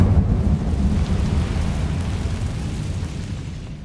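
A fire spell cast in Hogwarts Legacy gives a loud, deep rumbling burst that rolls and slowly fades over a few seconds, heavy and close with no voice over it.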